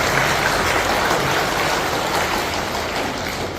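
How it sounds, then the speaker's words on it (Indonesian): A congregation at a Catholic prayer gathering gives steady, dense applause, a loud and close wash of many hands clapping together without a break. "Maka kita bertepuk tangan dulu untuk kerahiman ilahi."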